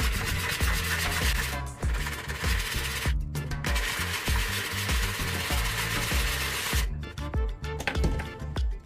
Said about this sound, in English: The first step is to sand the area of the bucket that needs repair.